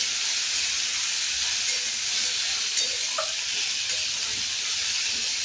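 Steady, bright sizzle of something frying in oil in a pan, a broad continuous hiss with a few faint pops and clicks, close and unbroken.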